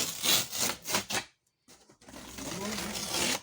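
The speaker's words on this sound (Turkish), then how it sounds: "Biz kartonu keselim arkadaşlar burada." Cardboard for packaging fragile glass is cut in rhythmic back-and-forth strokes, close and rasping, pausing briefly before resuming as a steadier scraping.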